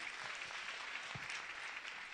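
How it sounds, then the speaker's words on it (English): Applause from an audience at a university event welcoming the patron, a steady even wash of clapping at moderate distance, filling the whole moment without voices. "Please, a round of applause for him."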